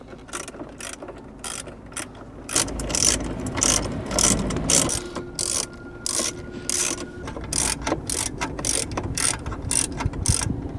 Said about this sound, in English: We're now going to remove 1, 2, 3, 4 10mm bolts.